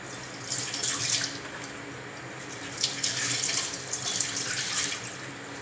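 Pechay being washed under a running kitchen tap, with a steady rush of water into the sink that rises and dips over several seconds, close by and with no talking.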